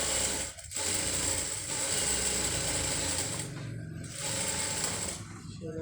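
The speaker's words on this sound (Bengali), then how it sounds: "এটা আমি সেলাইটা বসিয়ে দিই" A sewing machine runs in bursts while stitching a round maxi dress, its fast whirring rattle stopping briefly and starting again several times at close range.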